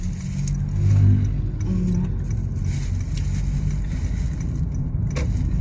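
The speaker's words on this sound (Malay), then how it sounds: "Banyak kereta jam teruk." Cars sit in heavy festive-season traffic at night near the Genting Sempah tunnel, heard from inside a vehicle as a steady low engine rumble and road hum with a brief swell early on.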